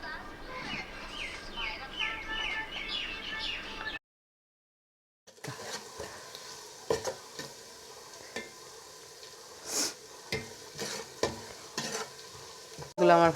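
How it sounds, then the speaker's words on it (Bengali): Spices with salt and turmeric fry in a pan for mutton biryani, sizzling steadily while a spoon scrapes and stirs in repeated strokes. A brief silence breaks it, and faint bird chirps come from the background. "এখন আমি এটা কিছুক্ষণ ভেজে নেব।"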